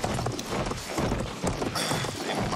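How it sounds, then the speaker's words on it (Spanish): A horse gallops at full speed during a cavalry charge in Battlefield 1, with rapid, loud hoofbeats pounding close by in a continuous rolling rhythm. "Haciendo cargas de caballería, que veamos el de frente."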